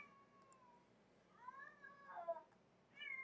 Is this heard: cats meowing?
yes